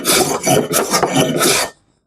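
A hand scraper is pushed across a wooden surface, shaving off fine curls in a few close, loud rasping strokes that stop abruptly into silence.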